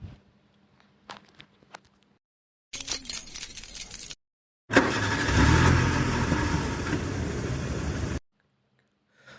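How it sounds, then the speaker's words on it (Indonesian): A truck engine roars loudly for several seconds after a brief burst of rattling noise, then cuts off abruptly into near silence. "Mesin meraung lagi."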